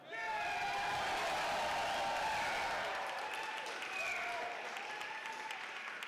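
A small crowd at a Wake County Libertarian Party meeting applauds and cheers, a sustained dense patter of clapping with whoops that holds steady and begins to thin toward the end, heard from within the room.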